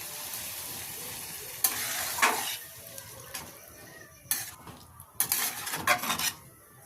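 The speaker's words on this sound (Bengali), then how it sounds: "দিয়ে দিচ্ছি জল ভালো করে নাড়াচাড়া করে জলটা মিশিয়ে নিচ্ছে" Water being stirred into pea ghugni in a pan, with scraping spoon strokes and clinks of metal on the pan in short bursts over a faint simmering background.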